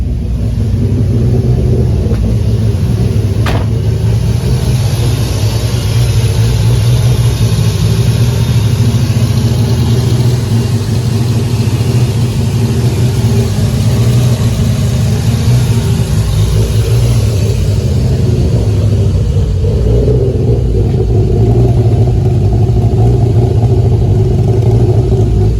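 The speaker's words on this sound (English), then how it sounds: "Obviously, the startup, as you saw, it was struggling to start. I had to put the full throttle on." A Toyota 2JZ engine idles with a loud, steady low rumble for the whole stretch, the tone shifting slightly toward the end as revs change. No one speaks.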